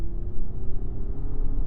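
Acura RLX Sport Hybrid accelerating from inside the cabin, a steady low engine and road rumble with a rising drone that shifts pitch as the transmission changes gears, loud and continuous with no talking.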